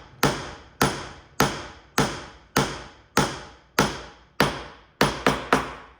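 A hammer lightly drives a glued mortise-and-tenon joint into a wooden frame, with ten sharp, evenly spaced taps, the last three coming in quicker succession, close and alone.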